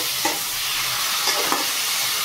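Taro greens with prawns fry over a high flame while being stirred, a dense, loud sizzle filling the whole moment, with a few soft scrapes of the spatula.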